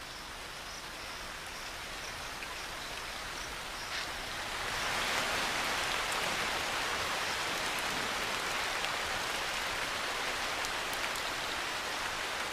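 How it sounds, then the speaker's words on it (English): Steady rain falls at daybreak in the Indian wild after a long dry spell, a continuous dense hiss that swells louder after a few seconds and holds there with no voices. "At daybreak, the rain resumes."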